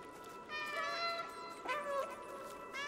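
A cat meows in the video game Stray, two or three drawn-out, tonal cries fairly close against a soft game background, with no talk over them.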